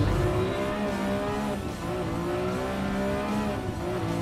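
A Ferrari race car engine in the Gran Turismo racing game roars steadily at high revs, loud and continuous, with pitch rising and dipping through shifts and tire noise beneath.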